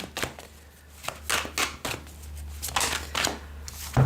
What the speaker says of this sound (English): As I was shuffling that card